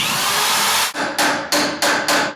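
A hammer tacking a wall stud in place during framing, a long ringing strike followed by four quick sharp blows in a steady rhythm, close and loud.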